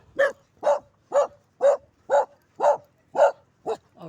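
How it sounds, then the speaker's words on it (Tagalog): A dog barks steadily and loudly nearby, about nine sharp barks at an even, rhythmic pace with brief gaps between them. "May aso. Dadaan kami aso ha."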